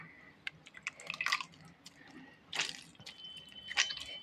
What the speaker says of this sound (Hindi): इस तरह से मैं इसको धोते हुए, निचोड़ते हुए, बिल्कुल पानी को अलग करते हुए, दूध को अलग करते हुए